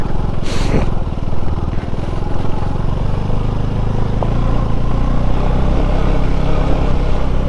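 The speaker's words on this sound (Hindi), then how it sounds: "अब मैं पहले गियर में ही चढ़ा रहा हूँ बाइक आराम से" A KTM Duke 390 motorcycle climbs slowly in first gear on a mountain pass road. Its engine gives a steady, close drone throughout, with gusty wind buffeting on top.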